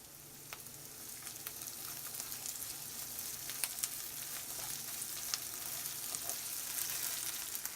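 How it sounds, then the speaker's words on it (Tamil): Quiet, steady sizzling of ginger garlic paste sautéing in a pan for chicken gravy, with faint crackles and occasional stirring clicks, no voices. "இப்போ இஞ்சி பூண்டு பேஸ்ட்டு நல்லா வதங்கிருச்சுங்க."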